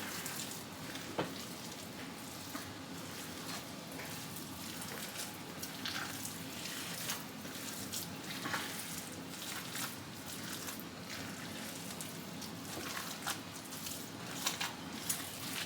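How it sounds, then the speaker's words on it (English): Hands mix ground venison for meatloaf in a bowl, making soft, wet squishing and squelching noises with irregular sticky pops, quiet and continuous. "the easiest way is to just get in there with your hands and mix it up"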